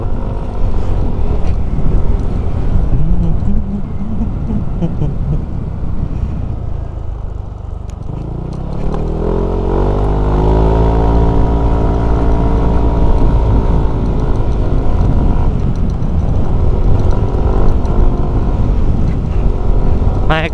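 A Yamaha NMAX scooter with a 60 bore-up engine revs hard, drops off as the throttle is released, then climbs again into a loud, sustained rev, with wind buffeting the microphone throughout.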